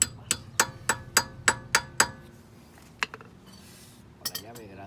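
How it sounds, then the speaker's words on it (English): Seven quick, evenly spaced metallic hammer taps ring out, seating a part on a BMW E46 rear brake, then a lone tap and a couple of faint clinks follow after a pause. "And you can tap it in a little bit with the hammer now."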